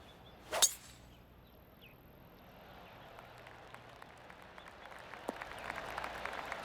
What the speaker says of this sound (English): Oh, I can hear the golf claps around the course.